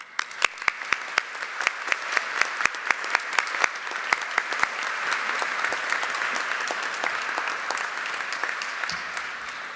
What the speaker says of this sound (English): Let's show our appreciation with applause to all those who walk with us